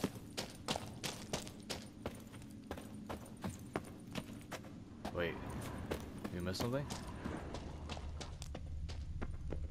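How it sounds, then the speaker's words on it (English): Horse hooves clip-clop in a steady walking rhythm within The Witcher 3 game, fairly close, with a brief voice speaking over the hoofbeats midway. "Another horse. Almost exactly like the last one."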